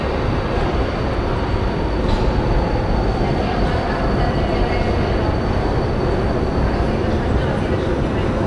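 A Budapest metro M4 train running at Kálvin tér station deep underground, with a continuous loud roar of wheels and cars and a faint high squeal, and people talking in the background.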